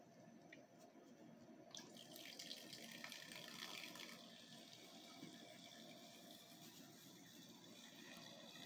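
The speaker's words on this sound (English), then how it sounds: "Adding water in the back." Water pours steadily into a shrimp tank from the back, a continuous close splashing and rushing flow that grows fuller and brighter after the first couple of seconds and then holds at an even level.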